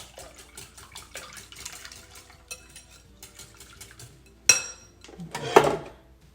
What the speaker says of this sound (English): Just whisk this up carefully.